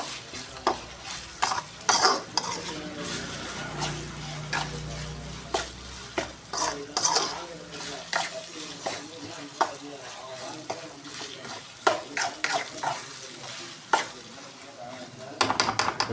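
Onions sautéing in a pan, a soft constant sizzle with repeated scraping and tapping of a spoon as they are stirred, close and fairly quiet throughout.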